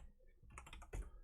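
Computer keyboard keys clicking in a quick, close burst of typing while text is entered in Natron compositing software, with one louder keystroke thump near the end.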